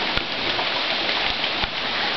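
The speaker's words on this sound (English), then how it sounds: "I thought I would do a little video because it's raining." Steady rain falls with a soft, even hiss, with an occasional louder drop or tap standing out.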